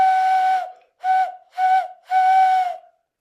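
A person whistles in imitation of a train whistle, sounding four clear, shrill tones: one long, two short, then a long one, each trailing off, close and alone.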